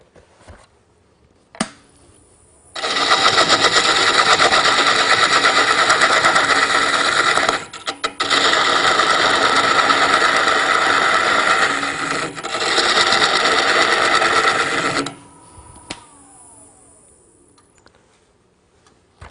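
A wood lathe turns a wooden tenon in a makerspace shop, giving a steady loud rasping, whirring cut in two long passes with brief pauses between them, then it spins down and fades out.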